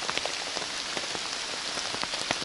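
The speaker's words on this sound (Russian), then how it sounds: "Посмотрите, друзья мои, дождь вновь усилился." Heavy rain pours steadily through a June forest, a dense continuous hiss with scattered louder drops pattering on leaves, close and unbroken throughout with no voices.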